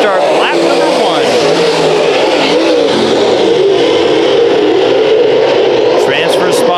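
Race cars at Bakersfield Speedway roaring continuously at a green flag restart, a loud, dense engine drone with revving pitch sweeps, while an announcer talks over it.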